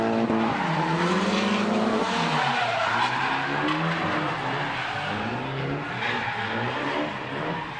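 A drift car holds high revs in a street-league run, its engine wailing and climbing while tires squeal continuously through the slide, loud and unbroken with no talk over it.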